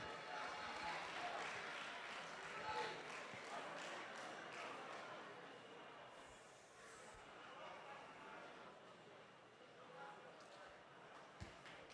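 Audience applause for Opoku Ware School at a national science and maths quiz grand finale, a broad, steady wash of many hands clapping throughout, fairly distant and even, with faint crowd murmur underneath.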